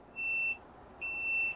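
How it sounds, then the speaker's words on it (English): A Creality Falcon A1 10W laser cutter gives two shrill electronic beeps during a firmware update, the second longer, loud against a quiet room. "they make the laser cutter do a really annoying beeping sound like this"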